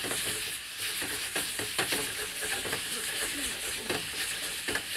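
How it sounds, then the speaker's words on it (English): Lean lamb pieces browning in a hot pan, a bright, busy sizzle with quick scraping stirs close to the microphone, brief and fairly faint. "Stir, stir, brown."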